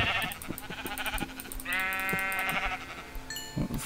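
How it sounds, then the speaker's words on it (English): Sheep in the Minecraft video game bleat several times in quick succession, with clear repeated calls over faint background game sounds. "click on the sheep for wool."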